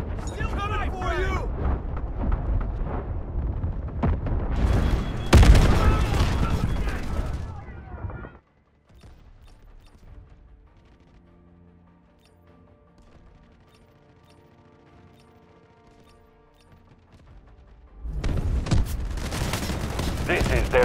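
Artillery barrage explosions in the video game Delta Force: Hawk Ops: a long, loud stretch of heavy booms and crashing blasts, then a quieter rumbling lull before another loud burst, with in-game voices calling out over the chaos.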